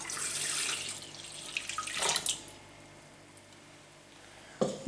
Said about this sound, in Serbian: I pola litre mleka sipat ću u jednu posudu.